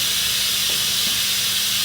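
Suction pulls oil from a BMW G 650 GS motorcycle with a constant, close, rushing hiss that stays level for nearly two seconds, with a couple of faint bumps partway through.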